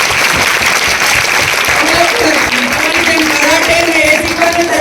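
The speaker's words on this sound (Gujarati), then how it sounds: "એના માટે જોરદાર તાળીઓ." Loud, sustained clapping from an audience at a district-level karate competition in Porbandar fills the space, dense and continuous, with voices talking and calling out underneath.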